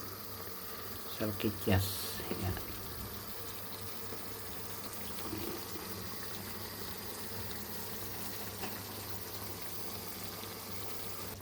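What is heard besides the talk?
adding water to a pan of sausages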